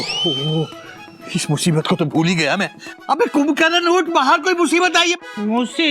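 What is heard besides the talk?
No everyday noise stands out behind the speech.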